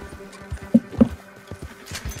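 Horse hooves clop in the video game Red Dead Redemption 2, an uneven run of hoofbeats with two louder strikes, mixed with game ambience and no talk.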